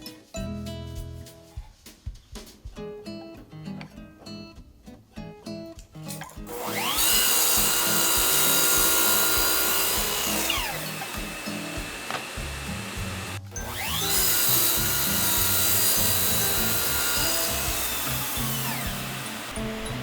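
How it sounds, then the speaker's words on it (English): A hand plane shaves the cut end of a cypress wood cutting board, made by a Japanese carpenter, in long loud hissing strokes, two sustained passes following an earlier stretch of lighter knocking and handling. "Naturally, I also hand plane the cut end."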